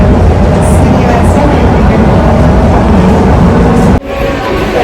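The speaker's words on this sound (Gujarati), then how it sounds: "તો અમે બેસી ગયા છીએ ટ્રામમાં અને ટ્રામ હાલે છે" A tram rolls along through city traffic with a steady, loud rumble and rattle from inside the car that drops off sharply near the end, with no voices.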